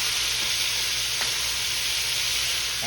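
Shrimp for bang bang shrimp fry in hot oil, a loud, close, continuous sizzle with dense crackling and one brief sharper pop midway, no voices.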